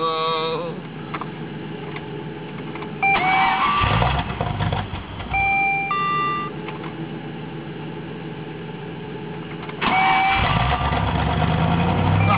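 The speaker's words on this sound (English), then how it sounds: "It takes a lot to crank this thing over." An old scout van's engine is cranked after a jump start, labored cranking followed by a rough idle that revs up in two louder surges, with a faint chime heard over it.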